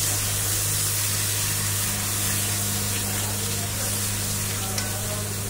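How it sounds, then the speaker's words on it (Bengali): Spice paste with a little water frying in a pan, a steady close broadband sizzle and hiss that holds evenly throughout, with a low constant hum underneath. "দিয়ে একটু জল দেব, দিয়ে ভালো করে মশলাটা কষিয়ে নেব"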